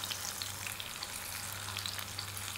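Masala-coated fish frying in a pan, a continuous close crackling sizzle with a low steady hum underneath and no talking.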